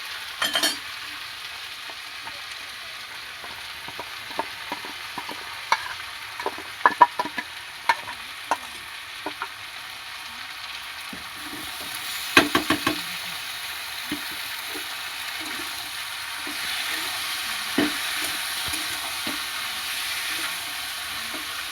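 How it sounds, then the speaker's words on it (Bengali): A spice mix fries in a wok for vegetable biryani: a steady soft sizzle broken by intermittent scraping and clinking stirs, with no voices. "আমি এই মশলাটা কড়াইতে দিয়ে দেবো, দিয়ে হালকাভাবে ভেজে নেব"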